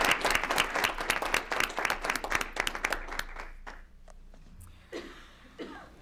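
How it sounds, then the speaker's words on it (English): Applause at an evening school board meeting for two honored students, their parents and coaches: a room of steady clapping that gradually thins out, ending in a few scattered claps. "I'd just like to give one more round of applause to both Autumn and Mackenzie and their parents, coaches,"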